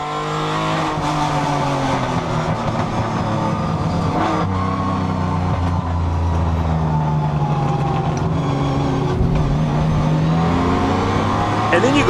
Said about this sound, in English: his red Aston Martin battling 2 gold medallion Cobras in the Group 4 race